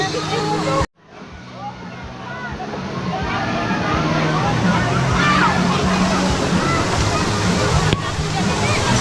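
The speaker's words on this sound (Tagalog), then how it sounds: "Dito kami sa ilog." River water sloshing and churning loudly and close by, a continuous rushing wash after a brief cut near the start, with people's voices mixed in beneath it.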